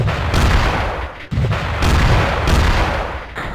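SAM launchers in Creeper World firing missiles at spores, repeated heavy booming launches roughly every second, loud and close, with a steady low rumble between them and no speech.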